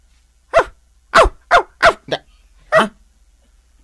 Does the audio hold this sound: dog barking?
yes